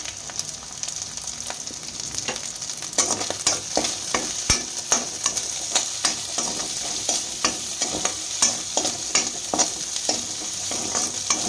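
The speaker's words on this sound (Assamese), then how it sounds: "এতিয়া এইখিনি অকণমান দেৰি মই ভাজি ল'ম।" Crab masala fries and gets stirred in a pan, a steady close sizzle broken by frequent sharp scrapes and clinks of the spoon that grow busier toward the end, with no voices.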